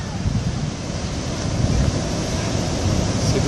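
Heavy swell breaking along the north coast of Réunion near Port, with ocean surf roaring continuously under wind noise on the microphone, broad and steady without distinct pauses.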